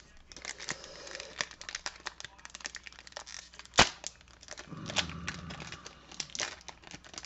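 A 2021-2022 Series One die cut trading card pack is torn open close by, with crinkling foil wrapper sounds, sharp tearing and a brief loud rip, all quiet and without talking.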